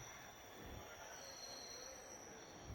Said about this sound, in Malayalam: 1ാമത്തെ പ്ലാറ്റ്ഫോമിലേക്കാണ് നമ്മൾ ട്രെയിൻ എത്തിക്കൊണ്ടിരിക്കുന്നത്.